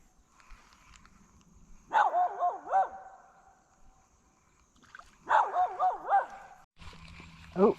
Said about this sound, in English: That damn dog is still just barking and barking and barking.